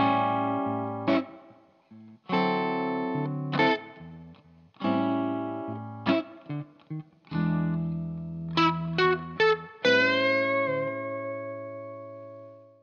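An electric guitar plays a blues solo over a backing track, with short phrases, sustained bends left ringing and rising slides. It sounds close and steady, with no talking.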